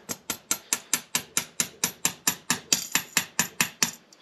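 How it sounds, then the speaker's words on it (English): The side of a screwdriver taps a brass float piece into place on a snowmobile carburetor float, about nineteen sharp, evenly spaced metallic knocks in a quick steady rhythm, close and alone. "I'm just going to use the side of my screwdriver to tap her in."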